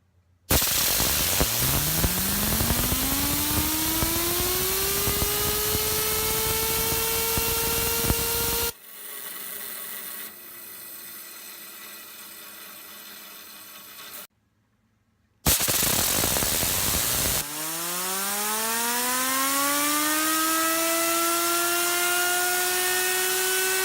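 A Namiste 29 Infinity fidget spinner whirls with a steady bearing whine that climbs in pitch as it spins up, cuts out briefly, then spins up again and holds a sustained buzzing tone, close and loud with no talking.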